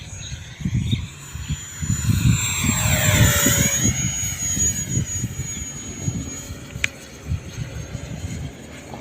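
A JAS 39 Gripen model jet with a 64mm electric ducted fan whines overhead, its pitch sweeping up and down as it passes, with wind buffeting and low rumbles nearby.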